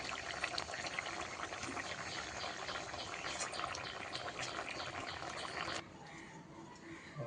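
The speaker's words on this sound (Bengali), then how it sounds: "মাছগুলো দিয়ে দিয়েছি, আর ভালোভাবে ফুটে উঠলে মশলা দিয়ে নামিয়ে নেব" Koi fish and gourd-leaf curry bubbling in a pot on a gas stove, a steady broadband simmering hiss with small pops throughout, dropping abruptly quieter near the end.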